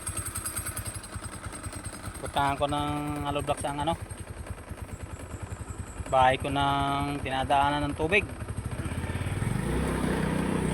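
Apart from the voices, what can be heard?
motorcycle carrying cement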